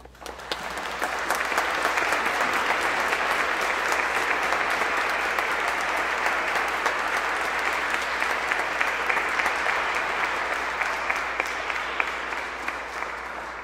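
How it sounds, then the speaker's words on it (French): Sustained applause from a church congregation at a Sunday Mass, greeting a small children's choir, steady and full throughout with no talking over it. "cette petite chorale des Petites Voix, que nous allons applaudir, bien sûr"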